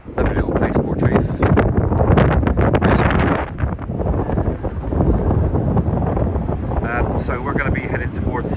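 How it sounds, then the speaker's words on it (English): Strong wind buffets the microphone on the Cornish coast path near Portreath, a steady loud rumbling roar that gusts up and down throughout; a person speaks over it in places. "As I say, it's a bit blowy, so hopefully you can hear me."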